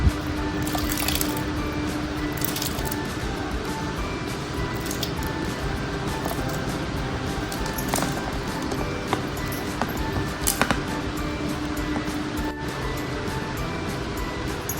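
Water is poured into a pot holding cucumber and tomato dal for cooking, a long steady splashing and gurgling stream with small drips, close and continuous throughout.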